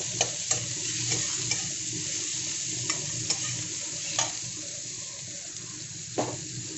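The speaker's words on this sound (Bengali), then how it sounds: "পেঁয়াজটাকে হালকা করে একটুখানি ভেজে নেবো শুধু।" Onion fries lightly in a pan, giving a soft, steady sizzle close by, broken by faint clicks of stirring with no one talking.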